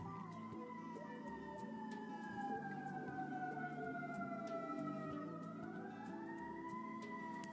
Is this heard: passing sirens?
yes